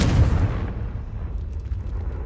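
Confringo blasting spell in Hogwarts Legacy, a loud close explosive boom that bursts at once and then rumbles and fades into a low tail over about two seconds.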